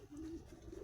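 A single pigeon gives a soft, low coo of under a second, quiet and close, with no other sound around it. The bird is recovering from paralysis.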